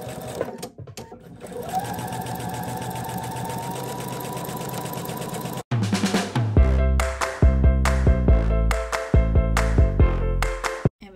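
A sewing machine stitches around a circle on a quilt, running steadily for several seconds and then going on in short bursts with brief stops between them. It is close and loud, with some ringing tones mixed in.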